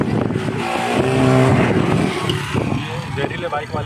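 Motorbikes roar past close by near the Makli necropolis, their engine noise swelling and fading in quick succession while people talk over it.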